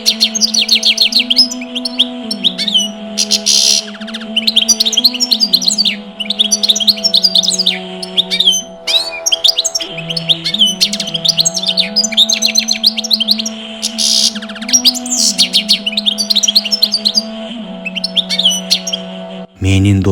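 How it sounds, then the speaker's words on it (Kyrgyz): A small bird chirps and tweets in quick, repeated bursts over a sustained tonal music bed, loud and continuous throughout. "куштун сайраганын угуп"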